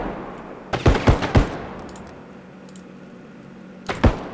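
Gunfire in the realistic first-person shooter Bodycam: a quick close burst of three or four loud sharp shots, a pause, then two more shots, with no talking.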